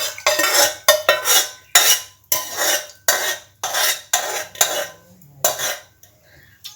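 Cooked ash gourd is spooned from a pressure cooker into a pan in a Kerala-style kitchen. About a dozen sharp metallic scrapes and clanks of a spoon against the vessels come in an uneven rhythm, close and moderately loud, with no speech.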